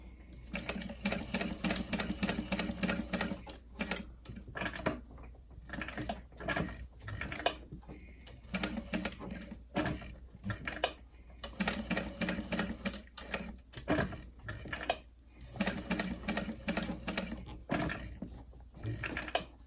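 A sewing machine stitches solid color vinyl in a wide zigzag, a few stitches at a time, giving close, rapid clattering bursts separated by brief stops.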